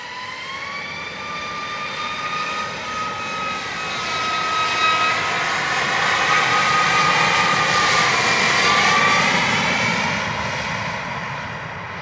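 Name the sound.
Southwest airliner taking off from runway 25, Montego Bay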